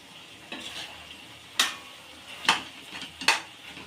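Spices and chili powder are stirred into a curry in a pan. A low sizzle runs under a few sharp metal clinks of a spoon against the pan, each spaced about a second apart.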